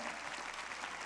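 Brief congregational applause in a church during a sermon on the day Jesus died: a dense, even patter of many hands clapping at close range, with nothing else heard.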